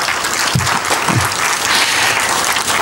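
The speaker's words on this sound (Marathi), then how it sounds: "तुम्ही पण टाळ्या वाजून अभिनंदन करा" Audience at a road-engineering training session bursts into steady, dense applause that fills the whole stretch, loud and close, with no talk over it.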